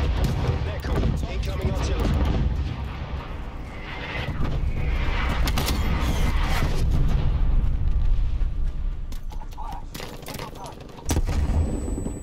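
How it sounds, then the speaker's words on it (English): An artillery strike in the video game Call of Duty Black Ops Cold War delivers a dense, rumbling barrage of booms and blasts that runs throughout, loud and sustained, with a voice speaking over it. "An artillery strike."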